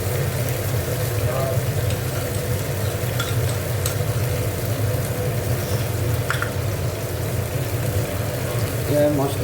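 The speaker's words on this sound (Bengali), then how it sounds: "এবার মশলাটাকে একটু ভালো করে ভেজে নেব।" Ginger, coriander, cumin and chili paste with turmeric frying in a pan for a Bengali rohu fish curry, a steady loud sizzle with occasional stirring scrapes throughout.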